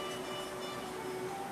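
A train sound effect for a departing train: a steady, loud rumbling hum carries a sustained whistle-like tone the whole way through, with no talking.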